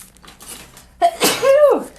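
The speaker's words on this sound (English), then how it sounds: "I'm gonna sneeze." A single person sneezes close by, a short breath in followed by a sharp, loud burst that trails off quickly.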